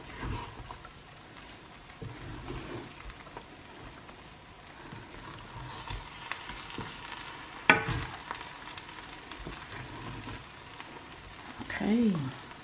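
Jollof rice gets stirred in a pot partway through cooking, with a soft, low bubbling simmer and scattered scraping and clinking of a spoon, one sharper knock, and a brief voice near the end.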